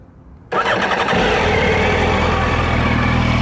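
A motorcycle with a stock exhaust cranks and fires up after a brief quiet moment, then settles into a loud, steady running note close by.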